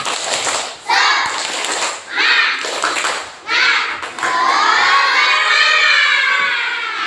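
Schoolchildren in a class chant a rhythmic spirit-clap cheer together, loud and close, their voices rising in bursts between short pauses and ending in a long sustained shout.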